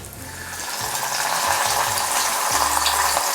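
Fish fries in hot oil in a wok with a dense, continuous sizzle and crackle, close and steady, and faint clinks and scrapes beneath it.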